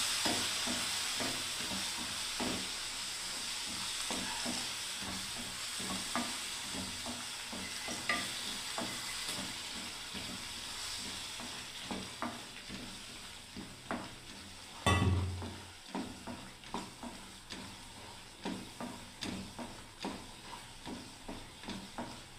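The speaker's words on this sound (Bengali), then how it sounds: "এবারে যে গরম জলটা আছে বন্ধুরা, এবার আমি আস্তে আস্তে ঢেলে দিচ্ছি বন্ধুরা" Hot water poured slowly into semolina upma in a pan, a steady frying sizzle with stirring scrapes throughout and a sudden loud hissing burst midway as the water hits the hot pan.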